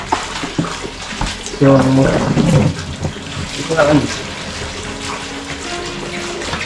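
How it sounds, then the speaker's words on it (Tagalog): Strong running water from a house water supply at a rest house, flowing steadily and loudly throughout while someone speaks over it. "Tubig natin, malakas."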